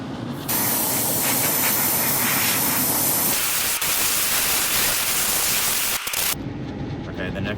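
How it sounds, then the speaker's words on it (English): A Paasche Talon airbrush spraying white water-based paint as a base coat on a fishing glide bait, a loud, continuous close-up hiss that starts abruptly after a brief lead-in and cuts off near the end. "So for today's video, I'm gonna be using a Pache Talon airbrush"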